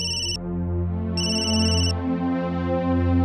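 A phone rings with an incoming call in a Bhojpuri TV serial: two clear bursts of a high electronic ringtone, separated by a short gap, loud and close over a steady background of music, with no talking.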